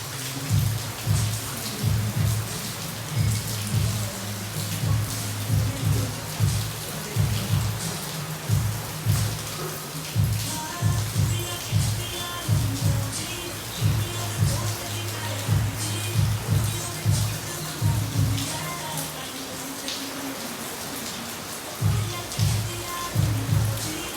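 Steady hiss of the season's first monsoon rain falling, heard close and continuous, with repeated rhythmic low thumps pulsing beneath it throughout.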